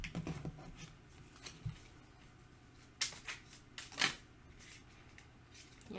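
Astrology cards handled and shuffled in a quiet room, with soft riffling and several sharp slaps and flicks, loudest near three and four seconds, close by and without talk.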